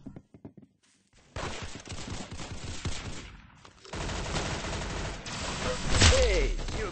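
Gunfire in the Roblox game Arsenal, a few quick shots at first, then sustained rapid automatic firing and bursts, fairly quiet and dense, with a brief sharper burst near the end.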